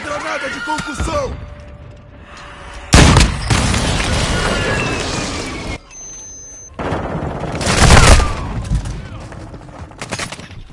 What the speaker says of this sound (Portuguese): Mandando granada de concussão!